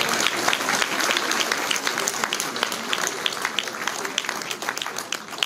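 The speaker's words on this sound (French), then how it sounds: "Donc là, vous pouvez encore applaudir." Crowd applause at a mayor's New Year address in Villabé, sustained clapping from an audience with sharp individual claps standing out, fairly loud and continuous throughout.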